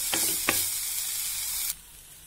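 Bread roll filling sizzles steadily in a hot pan while a spoon stirs it, giving a couple of sharp scrapes early on. The frying hiss carries loud and close, then drops away abruptly near the end.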